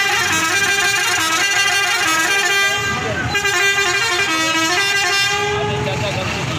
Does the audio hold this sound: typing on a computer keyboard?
no